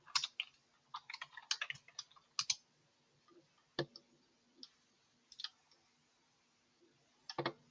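A computer mouse is clicked repeatedly, producing quiet, sharp, close clicks in irregular clusters with short gaps between.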